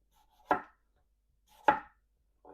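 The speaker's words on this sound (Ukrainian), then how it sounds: "Так, ріжу всю картоплю і викладаю її зразу на деко." Two distinct knife cuts through firm unpeeled potatoes on a board, sliced into rings about a centimetre thick, about a second apart, with a faint third cut at the end, otherwise quiet.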